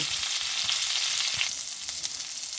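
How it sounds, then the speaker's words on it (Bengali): Steady, loud sizzling of cauliflower and potatoes frying in hot oil, a continuous crackling hiss with occasional soft stirring. "ফুলকপি আলু ভাজা হচ্ছে"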